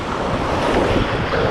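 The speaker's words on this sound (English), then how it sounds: "I am now going through some rapids" Rapids on the Wairau River rush past while tubing, a loud, close, continuous roar of churning water buffeted by wind noise on the microphone.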